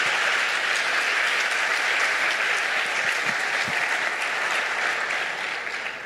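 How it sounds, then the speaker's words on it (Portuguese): Church congregation at a Holy Spirit conference giving a round of applause to the Lord, loud dense clapping filling the hall evenly and tapering a little at the very end, no voices over it. "dê uma salva de palmas ao Senhor por isso."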